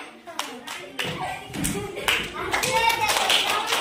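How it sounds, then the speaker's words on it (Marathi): A group of children clapping together in a classroom, a burst of uneven, close claps that grows denser, with talking mixed in. "चला टाळ्या वाजवा सगळ्यांनी।"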